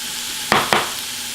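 Apple slices frying in butter in a pan, with a steady soft sizzle broken by two quick, close stirring scrapes about a fifth of a second apart.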